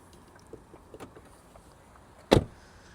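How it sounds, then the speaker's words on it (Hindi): Kia Seltos HTK O being locked, a few soft faint clicks followed by one short, sharp thump of the lock actuating, close and brief, with no talk. "मैं लॉक कर देता हूँ एक बार कार को।"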